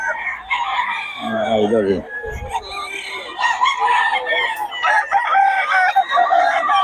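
Young roosters (stags) crowing one after another, loud and close, with clucking and bird noise in between and someone talking briefly.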